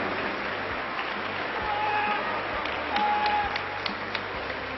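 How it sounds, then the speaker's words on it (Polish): An audience applauding at a boxing gala in a hall, moderate scattered clapping that swells slightly midway, with faint crowd murmur and a few sharp hits behind it. "Duże brawa."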